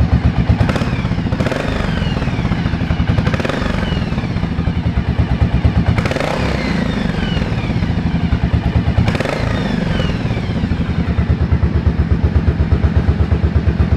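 A 1983 Yamaha Virago 750 Midnight Special with a fresh, barely broken-in rocker-valve engine idles up close, giving an even, rhythmic low chug with light valve clatter throughout.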